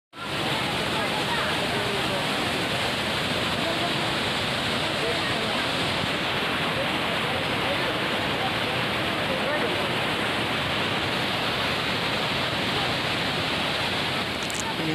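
A waterfall at Vagamon, with water tumbling down on both sides, roars as a loud, dense, unbroken rush that fills the whole stretch, up close and steady.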